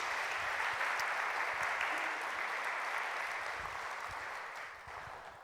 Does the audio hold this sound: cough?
no